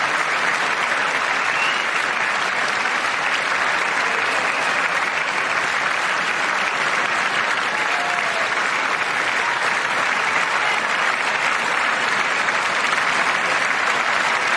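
Sustained applause from a large audience at the State of the Union address fills the whole stretch, a dense, even wash of clapping with no break.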